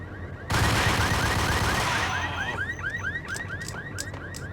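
A loud alarm system blares in the Max Payne video game, a dense burst starting half a second in and then easing into rapid repeating electronic chirps that run on steadily with no talking.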